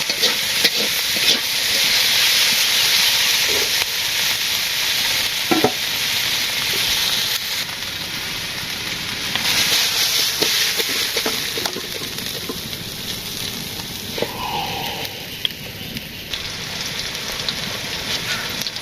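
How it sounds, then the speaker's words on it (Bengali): Onions frying in a pan during simple village cooking, a steady loud sizzle and hiss running throughout with occasional stirring clatters and knocks. "পেঁয়াজ ভাজি হয়ে গেছে"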